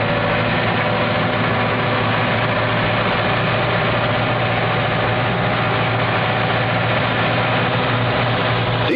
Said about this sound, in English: The tractor pulls the potato planter along.